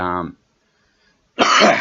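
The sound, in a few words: coughing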